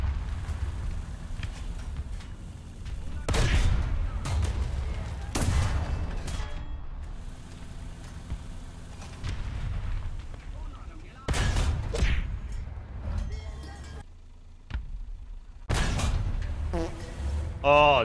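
An M48A2 C tank in War Thunder fires its main gun several times, each shot a sharp loud boom with a rumbling tail, spaced seconds apart over engine noise and talk.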